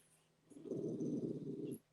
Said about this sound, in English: Quit growling at me.